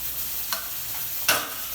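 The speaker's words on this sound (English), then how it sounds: "Add about a tablespoon of Daniya seeds and 2 teaspoons of Chana Dal" Coriander seeds and chana dal dropped into hot oil for sambar, giving a steady close sizzle with two brief bursts of crackle as they hit the pan.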